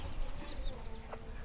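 Small brown Japanese-breed chickens kept in a cage clucking softly, several faint clucks scattered through a quiet outdoor background with no talking.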